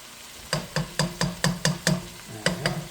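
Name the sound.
stirring tomato paste into ground beef stew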